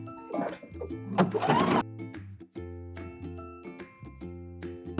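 Sewing machine stitching a garment tag onto the centre back of handmade high-waisted shorts, running in a few short bursts with clear pauses between runs, close and fairly loud, with no talk.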